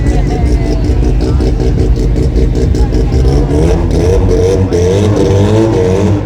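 Street 289 class race cars thunder past at the Garrett Brisbane Jamboree, a loud, continuous engine roar with revving and clatter that stays steady throughout, with a commentator talking over it.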